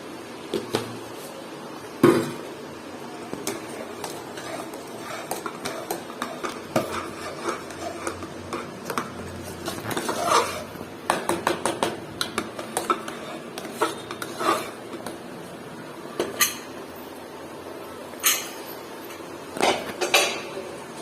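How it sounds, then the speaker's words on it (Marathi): Puran filling stirred fast in a pot over raised heat, a busy run of metal spoon clatters and scrapes against the vessel, irregular and close, with no one talking. "आता थोडासा गॅस वाढवते आणि पटापट आपण त्याला ढवळत राहू"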